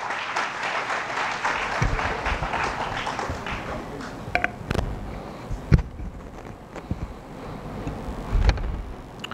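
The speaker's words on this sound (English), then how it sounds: "Please give him a big round of applause." An audience at a scientific meditation and stress-coping seminar claps steadily at first, then the applause thins out into scattered claps and a few sharp taps.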